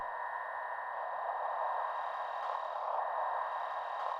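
A video game crystals sound effect rings out as a steady, shimmering tonal hum with sustained pure ringing tones and faint chiming swells, continuous and fairly soft, with no voices.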